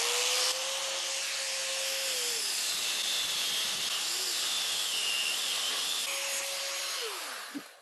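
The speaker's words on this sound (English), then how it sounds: "Time for the grinder to earn its keep." An angle grinder cuts through a one-inch-thick steel rod, a steady loud hissing whine running without pause for the whole stretch, with the motor pitch sagging briefly near the start and the end.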